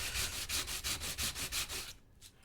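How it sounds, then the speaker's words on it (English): Repeated back-and-forth sanding strokes on a small 1:12 scale wooden Nicholson workbench, about eight rhythmic scratchy passes close up, then stopping near the end. "we'll just sand and sand and sand some more"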